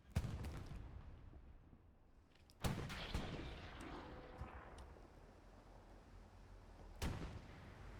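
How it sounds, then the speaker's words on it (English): A Puma armored car's shell striking and ricocheting off a Sherman tank in the Hell Let Loose WWII game, sharp distant cannon cracks at intervals, one heavy impact standing out mid-stretch over a low battlefield rumble. "Puma ricochets on the Sherman."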